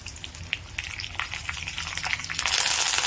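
Curry leaves and urad dal fry in hot oil for an idli upma tempering, giving a steady close sizzle and crackle that swells louder near the end, with no talk.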